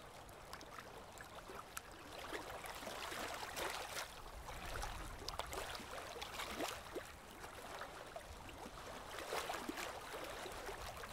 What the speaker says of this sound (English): and the rhythm of the water calms you